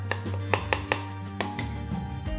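A metal spoon clinks repeatedly against a pot as gochujang goes into a pork kimchi stew, a series of sharp, close taps over a low background hum.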